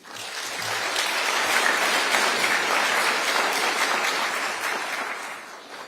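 An audience at a forum claps for a panel, the applause swelling quickly into a broad, sustained roar of clapping and fading slightly toward the end, with no talk over it.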